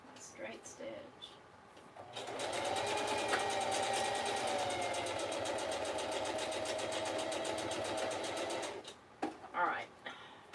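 A sewing machine runs a straight stitch in a steady, fast mechanical whir with rapid needle clatter for several seconds, framed by quieter handling sounds before and after.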